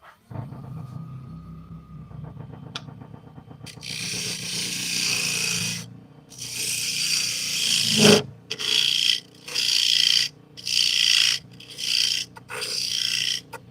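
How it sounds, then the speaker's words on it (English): A mortise is recessed deeper into walnut and butternut wood with rough rasping strokes. Scattered scraping at first gives way to a run of loud, rhythmic back-and-forth bursts close by. "So actually I'm gonna recess that mortise a little bit more, because I don't think it's quite deep enough."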